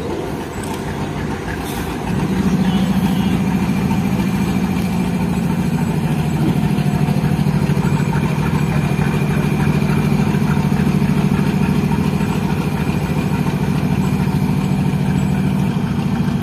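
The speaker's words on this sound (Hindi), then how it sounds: "कमाल का साउंड है इस इंजन का।" A Pakistan Railways diesel locomotive idles at a junction station, its deep engine hum growing louder after a couple of seconds and then holding steady and close for the rest of the clip.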